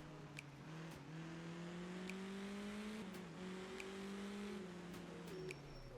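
The La Hepta rally car in art of rally drives with a steady droning engine, its pitch climbing and dropping as the gears shift, heard faint and close with light gravel hiss beneath.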